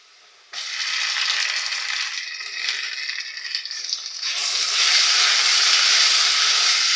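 Red chilli and turmeric powders hit browned fried onions in a pan for a prawn malaikari, setting off a loud, sudden burst of hissing sizzle that holds steady, then surges even louder partway through.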